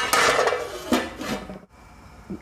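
A heavy cooking pot is set on top of a pot of chana pulao resting on dum, giving a few close metallic clanks and clatters, then quiet.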